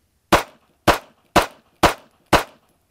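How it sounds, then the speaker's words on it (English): Five sharp handgun shots fired in quick succession at a training range, evenly spaced about half a second apart, loud and close with short decays and no talking over them. "5 rounds as quick as you can."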